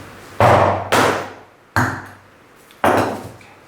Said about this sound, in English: But just know that, when glass breaks, it's going to be sharp. And I'm just going to hit it.